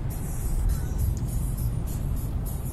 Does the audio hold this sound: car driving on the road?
yes